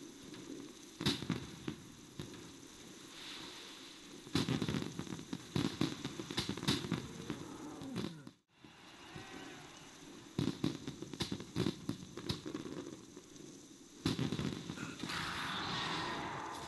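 Fireworks display in World of Warcraft over Booty Bay during a 4th of July event: repeated loud bursts and crackling pops across the whole stretch, with a brief dropout midway and a dense sparkling crackle near the end.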